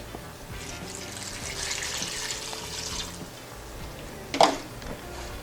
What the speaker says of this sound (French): on va mettre quelque chose comme 2 tasses de vinaigre